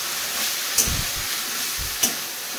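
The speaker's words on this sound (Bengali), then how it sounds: "দেখো বন্ধুরা তেলটা গরম হয়ে গেছে, এখন আমি দিয়ে দিচ্ছি এর ভিতরে সরষা।" Vegetables hit hot oil with popping mustard seeds, producing a steady close sizzle with two sharp spits as pieces drop in.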